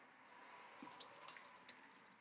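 Water draining from a pot of peas, faint sparse drips and small splashes over a quiet background hiss.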